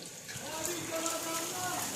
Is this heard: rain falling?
yes